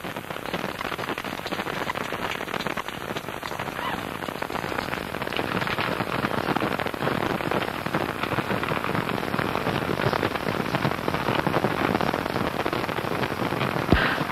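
Space Shuttle Atlantis main engines roar during the STS-34 launch as a dense, steady wall of crackling broadband rumble, continuous and unbroken, with no voices over it.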